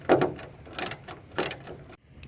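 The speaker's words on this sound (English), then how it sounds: "Then next you want to come by and tighten both of your bolts up." A ratchet wrench tightens bolts on a Mustang GT500 hood bracket in several quick close-up bursts of clicking, with short pauses between strokes.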